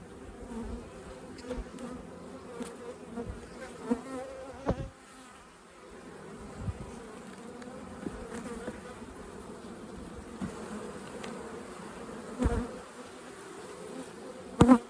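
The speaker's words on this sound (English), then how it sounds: "Sure, a lot of bees in this hive." A dense, steady hum of many honeybees buzzing close by in an open hive, with occasional soft knocks and bumps over the drone.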